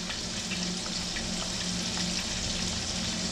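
Steady crackling sizzle of chicken breast strips frying in hot oil, continuous and close, with no voices.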